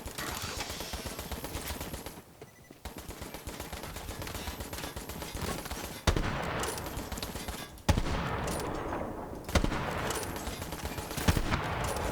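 Roided frag grenades detonate in the Borderlands video game, a dense, loud barrage of blasts and rapid gunfire with sharp bursts hitting every second or two and no voice over it.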